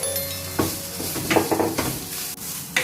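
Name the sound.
stirring fish mixture into drumstick leaves in pan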